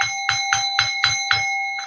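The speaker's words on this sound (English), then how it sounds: "Hey, you want to hear the bell? Here's my new bell." A small hand bell rings in quick, evenly spaced strikes, about seven bright metallic dings with ringing overtones, close and clear with no talking.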